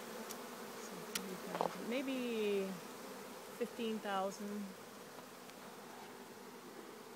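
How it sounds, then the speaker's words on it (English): A swarm of roughly 15,000 honey bees buzzing all around, a dense, even hum that fills the air while a voice speaks briefly over it. "I can't believe that I am in the heart of so many bees"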